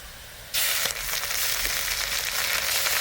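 Ginger and garlic hitting hot oil in a village grandmother's pan, a sudden loud sizzle that erupts and then holds as a steady, dense frying hiss, close up with no talking.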